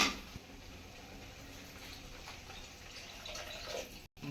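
Water poured into a cooking pan while making paneer curry, a faint continuous trickling and sizzling wash with soft drips, quiet and steady with no talking.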